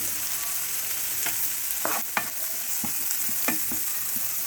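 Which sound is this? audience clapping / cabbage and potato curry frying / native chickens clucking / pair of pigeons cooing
cabbage and potato curry frying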